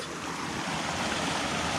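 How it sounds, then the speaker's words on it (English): Small waterfall on a hiking loop trail, a steady broadband rush of falling water filling the whole clip close by, continuous and even with no voices. "it's a waterfall."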